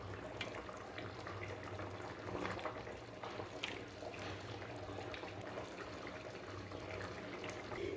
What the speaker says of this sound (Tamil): நம்ம குழம்பு நல்லா கொதித்து வந்துடுச்சு பாருங்கள்.